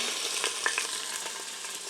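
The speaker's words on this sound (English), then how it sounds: "we're going to go ahead and pop these in this nice warm pot, and it's going to sizzle like crazy" Pieces of pot roast beef sizzle loudly as they brown in a hot Instant Pot, a steady, close, crackling hiss with no voices.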